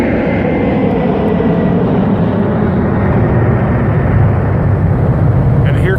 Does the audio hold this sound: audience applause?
no